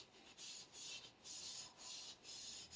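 Steel wool with Barkeeper's Friend rubs rust off a Minamoto sujihiki knife blade in steady back-and-forth strokes, about seven scratchy swipes in an even rhythm, close but quiet.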